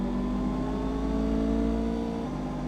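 Kawasaki Ninja 500 motorcycle engine holding a steady mid-pitched drone through a third-gear downshift, close and continuous with a constant hum of wind and road noise.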